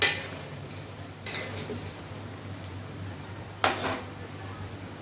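Jhalmuri (puffed rice snack with cumin and oil) being tossed and mixed in a bowl, with a few scraping clinks of a utensil against the bowl at intervals over a faint steady hum; no talk.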